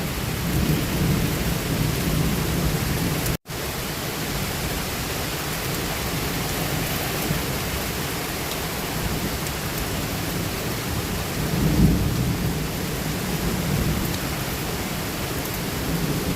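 Steady heavy rain pours throughout while low thunder rumbles underneath, swelling briefly toward the end.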